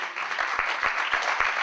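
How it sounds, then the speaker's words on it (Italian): Audience applause for a singer as he is introduced on stage, a steady wash of clapping with scattered sharper individual claps throughout, moderately loud and continuous. "un grande applauso anche a lui"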